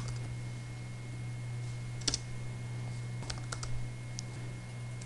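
Computer keyboard typing while a book's title and author are entered into a library application form: a few scattered light key clicks at a steady low level over a constant electrical hum, with no voices.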